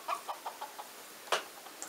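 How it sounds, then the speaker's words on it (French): A rooster in a French village yard gives a hoarse, strained crow, heard as a string of short clucking calls and one sharper cry, fairly close and alone with no talk. "Ah, quand le coq chante comme ça, c'est qu'il y a un souci."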